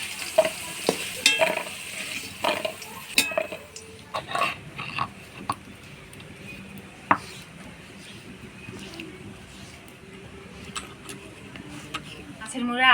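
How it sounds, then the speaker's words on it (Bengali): Potatoes frying in oil, with a low sizzle beneath intermittent clatter as utensils knock and scrape against the pan, and sharper clicks early before settling into quieter frying. "আলুটা বেশ সুন্দর লাল লাল করে ভেজে নিলাম"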